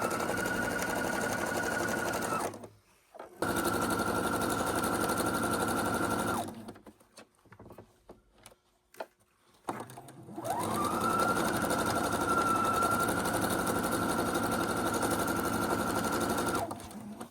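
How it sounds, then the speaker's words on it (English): A sewing machine stitches quilt rows together in long steady bursts of rapid, close mechanical whirring, separated by short pauses with faint handling noises. "we're sewing all of our rows together the same way, using our pins"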